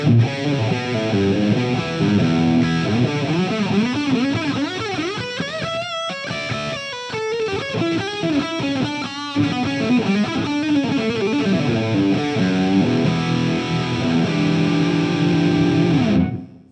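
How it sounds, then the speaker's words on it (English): Loud, driven electric guitar on a Vigier Excalibur Supra's bridge pickup, with a bright, biting distorted tone, playing chords and melodic lines continuously, with a brief dip in the middle. "Let's start with the bridge pickup, bit of drive on."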